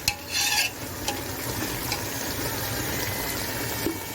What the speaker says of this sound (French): à mélanger le couscous, à changer la couleur du couscous